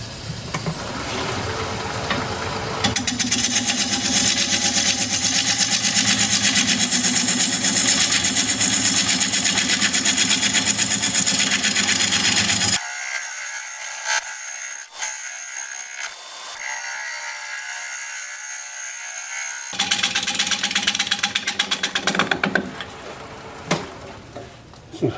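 A wood turning tool being sharpened on a grinder in a woodworking shop, a steady loud whine running continuously with a brief quieter gap midway before resuming.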